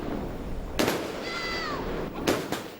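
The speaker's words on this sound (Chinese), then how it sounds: "阖家团圆的詹家也放起了烟花" Fireworks set off by a family on Lunar New Year's Eve in Brunei crack in two sharp bursts, with a rising whistle between them, over a steady outdoor hiss.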